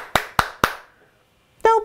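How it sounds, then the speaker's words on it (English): Three sharp hand claps in quick succession near Australian Labradoodle puppies, followed after a short pause by a brief louder clap-like knock with a faint tonal ring. "So we'll just see if he responds to any clapping."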